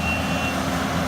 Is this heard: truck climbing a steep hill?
yes